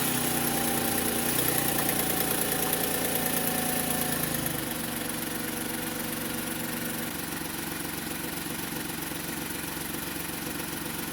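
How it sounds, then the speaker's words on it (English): A car engine idles steadily during an air-conditioning repair check, a continuous low mechanical hum with faint vibration, shifting slightly in tone partway through and running alone without talk. "So I'll switch the engine on."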